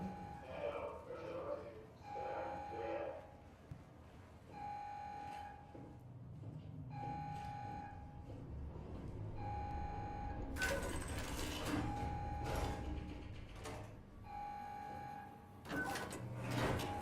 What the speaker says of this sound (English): Not sure why that's beeping.